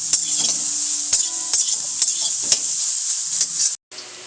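Whole spices fry in a pan over full heat until light brown for a paneer dish, giving a steady loud sizzle broken by regular scraping stirs of a spoon, with no one speaking.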